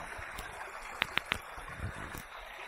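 Wuyuan Brook runs through a narrow canyon in the Wuyi rock tea area, giving a steady wash of flowing water. A few sharp clicks stand out over the constant rush, and no one speaks.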